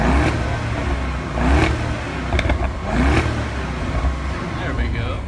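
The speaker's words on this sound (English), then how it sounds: "Let's have a good little rev from Nick here." Alpina B6 car engine revving in a few bursts, with rising whines and a steady idle between them, heard close outside.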